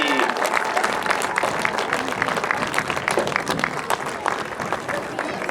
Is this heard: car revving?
no